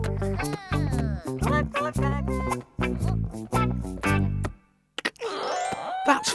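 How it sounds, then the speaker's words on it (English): A cartoon doorbell rings in a children's puppet show. It plays a bright musical ding-dong chime of several clear tones in a row, then a short silence and a few softer sounds. "I wonder who rang the bell."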